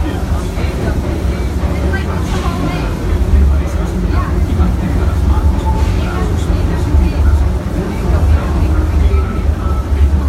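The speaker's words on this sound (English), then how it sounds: "welcome aboard the Disneyland Railroad" A Disneyland Railroad train in Anaheim, California rumbles along with a loud, steady low-pitched drone and clatter, as if heard from aboard the moving ride, continuous throughout.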